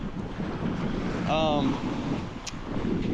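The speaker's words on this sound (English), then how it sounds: "Forgive me if it's windy. I'm out here on the beach." Steady wind on a beach buffets the microphone with a low roar, and a voice briefly speaks partway through.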